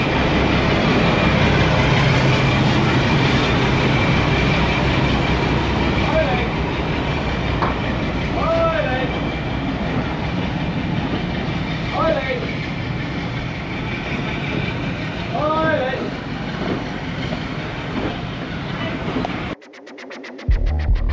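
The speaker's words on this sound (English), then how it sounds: "we'll get back on the train" A loud, steady rumble of a heritage train on the Severn Valley Railway rolling along the rails, with squealing wheel tones rising now and then, before cutting off near the end.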